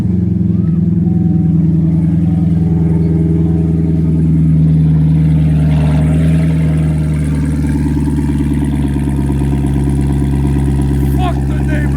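A Corvette C7 Grand Sport with an aftermarket exhaust idles loud and close at night, its deep, steady rumble droning throughout with slight swells in revs; voices talk briefly over it.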